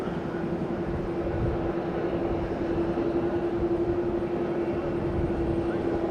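A Chinook helicopter flies past near an airport, giving a steady, fairly loud rotor and engine drone with a constant low hum held throughout, no talk over it.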